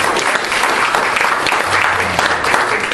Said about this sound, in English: I think that deserves a round of applause from us here.